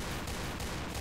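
Rapid pistol gunfire in the online shooter Point Blank, a dense, loud burst of repeated shots filling the whole moment with no voices.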